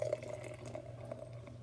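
Brickway IPL beer pours into a Stella Artois glass with a faint, steady liquid trickle and splash, quiet and close over a low background hum.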